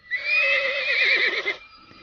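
A horse gives a loud, sustained whinny lasting about a second and a half, with a wavering, shaking tail before it cuts off, heard alone with no talk over it.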